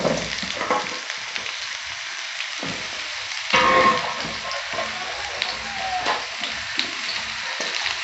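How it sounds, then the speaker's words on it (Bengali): Potatoes frying in a pan, a loud bright sizzle that pulses unevenly with stirring, plus a brief louder burst and a few light clicks of a utensil. "এবার আলুগুলো আমি একটু ভেজে নিচ্ছি, একটু লাল লাল করে আলুগুলো ভেজে নেব।"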